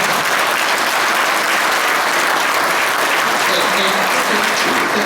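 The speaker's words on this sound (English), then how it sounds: "Give him a round of applause." Loud, dense audience applause at a National Motorcycle Museum 30th anniversary celebration, a continuous roar of clapping held evenly throughout with no voices rising above it.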